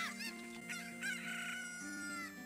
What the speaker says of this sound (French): Oh, une poule!